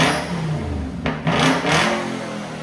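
A 2008 Volvo S80 with a 4.4-liter V8 and the muffler deleted revs up nearby, its loud, rough exhaust note rising and falling through two or three quick blips with no talking.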